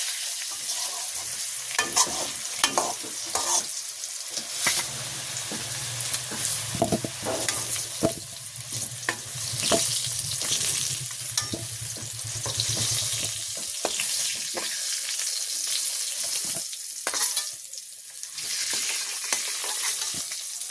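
Potatoes frying in a pan in a village kitchen, sizzling steadily while a spatula scrapes and stirs in irregular bursts, close and without talk.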